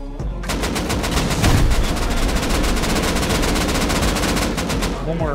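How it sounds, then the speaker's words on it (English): Loud, sustained automatic gunfire in the video game Rust during an online raid, rapid shots rattling almost continuously for several seconds with a brief lead-in. "Help me shoot out this box, Steve."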